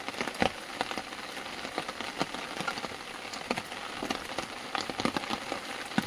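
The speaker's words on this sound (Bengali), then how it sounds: "বৃষ্টি তো দফায় দফায় জোরে আসছে" Heavy monsoon rain coming in bursts near a riverside home, a dense crackling patter of drops striking a surface with irregular sharper taps, close and steady, no voices.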